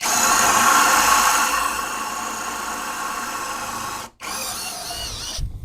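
Close, loud whine of an ELTOS cordless impact driver drilling, running continuously, briefly cutting out near the end before spinning up again.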